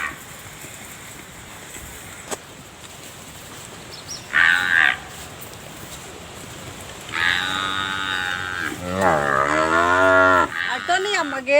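Buffaloes on a farm searching for a missing calf low and moo in several long calls, loud and close, with a short call near the start and overlapping harmonic bellows through the second half, over faint background noise.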